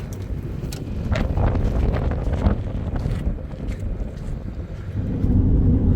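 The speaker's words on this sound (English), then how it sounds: "It's windy, it's windy." Steady wind roars and buffets against the microphone throughout, a heavy low rumble with gusts that swell and ease, no voices, on a road in Baja California near San Felipe.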